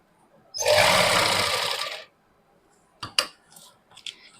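A sewing machine stitches a pocket onto palazzo trousers in one quick, close run of rapid mechanical chatter lasting about a second and a half, followed by a few light clicks and taps.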